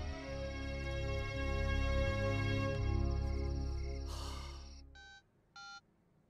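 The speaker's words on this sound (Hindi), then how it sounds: "गुप्ता जी का फोन था" Steady background music plays, then two short electronic telephone ring bursts sound near the end, separated by a brief pause.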